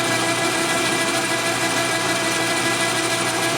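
A lathe running while it cuts, giving a loud, constant machine whine and hum with a steady mechanical texture and no pauses or talking.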